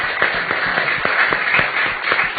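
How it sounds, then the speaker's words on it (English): An audience claps for Ted at a World Oceans Week event, with a few sharp, close claps beating in a loose, quick rhythm that stays fairly even for a couple of seconds. "Can we just get a round of applause for Ted for everything he's doing?"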